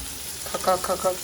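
Boiled stuffed eggs seasoned with salt and chili frying in hot oil in a pan, a brief close crackle and sizzle with a few quick pops.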